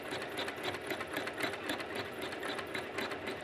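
A sewing machine embroidering long stitches on jeans held in a hoop, a steady fast needle chatter that runs continuously, close and fairly loud, with no talking.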